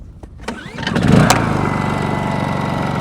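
Honda EU22i portable inverter generator being started on a boat at anchor: a short pull-start rattle, then the small engine catches and settles into a steady, close, even idle hum with no talk.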